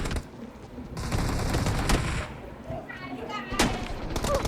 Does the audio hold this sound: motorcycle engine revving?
no